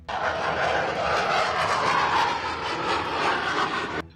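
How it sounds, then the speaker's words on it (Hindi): Rafale fighter jets roaring overhead during a formation flypast, a loud sustained jet rumble that holds steady for several seconds and then cuts off abruptly. "आसमान में उड़ते रफाल विमानों की गड़गड़ाहट ऐसी कि देश के दुश्मन कांप उठे"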